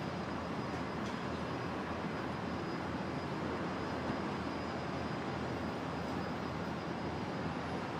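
An airliner takes off from runway 01 left at Brisbane International Airport, its engines a steady, broad distant roar that holds at an even level throughout.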